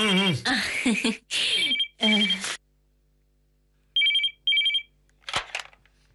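A telephone rings in two short bursts after a stretch of speech, each ring a bright trilling tone, followed by a quick clack as the handset is picked up; people talk before the rings.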